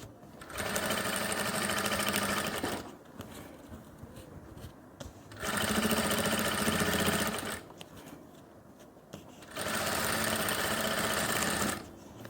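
Sewing machine stitching a seam on women's pants, three loud sustained runs of rapid close stitching with quieter gaps between.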